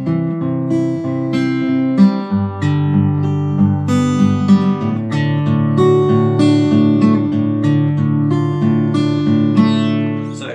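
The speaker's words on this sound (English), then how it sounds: "All four of those pickings put together sounds like this." Acoustic guitar playing the fingerpicked intro pattern of a song, four picking figures joined into one continuous, steady run of plucked notes over ringing bass strings, close and clear with no talking.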